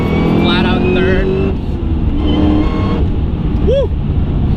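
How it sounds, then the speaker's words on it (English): A 1000 HP Cadillac CTS-V with a manual gearbox pulls flat out in third gear, its engine note rising loudly and steadily close up under voices inside the cabin. "I'm just gonna roll on the throttle."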